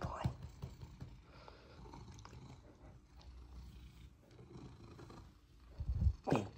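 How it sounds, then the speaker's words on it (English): A pet cat purrs close up in a home, a low continuous rumbling that runs steadily under a soft, faint voice, swelling louder near the end. "Big purr, baby."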